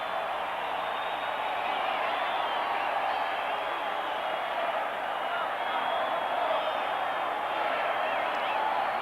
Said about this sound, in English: It's a great crowd, it really is.